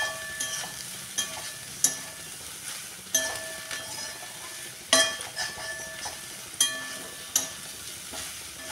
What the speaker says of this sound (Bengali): সোয়াবিনটা একটু ভেজে নিলে কাঁচা গন্ধটা বেরোয় না।